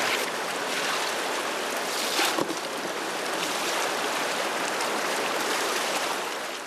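Glacial meltwater river flowing over black gravel and sand below a Himalayan glacier, a steady broadband rush of water, loud and close, continuous throughout.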